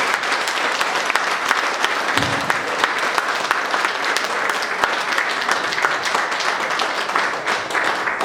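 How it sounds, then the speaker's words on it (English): A health seminar audience gives a sustained round of applause, loud, dense clapping continuing evenly with scattered sharper claps and a faint thump partway through. "I want you now to give him a round of applause"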